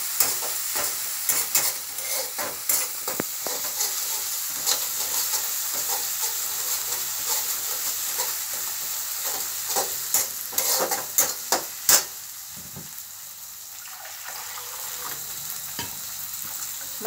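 Green chilies fry in hot oil with a steady sizzle, broken by sharp clattering stirs and spoon knocks against the pan, quieter toward the end.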